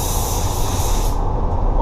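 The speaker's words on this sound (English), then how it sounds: "let's spray my base coat using the Axalta 5500" A paint spray gun sprays Axalta 5500 base coat onto an Audi spoiler during a repaint, a loud continuous close-up hiss of atomised paint that cuts off sharply partway through.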